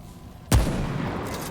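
A gunshot in the video game Remnant: From the Ashes: one sudden, loud blast followed by a decaying rumble that stays above the background.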